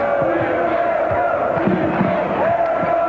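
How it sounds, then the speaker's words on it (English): A noisy home basketball crowd roars and cheers for UCLA against Oregon State in 1981, a dense sustained wall of voices and shouts filling the arena. "Noisy crowd in support of the home team,"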